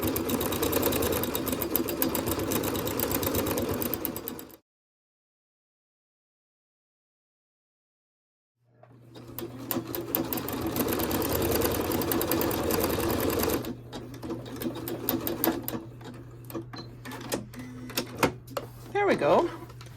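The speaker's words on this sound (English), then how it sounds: "I'm just going to start sewing." A sewing machine stitches fabric for a heart-patterned mug rug in fast, rattling runs, stopping for a silent pause, then resuming with steady motor hum and intermittent clicks.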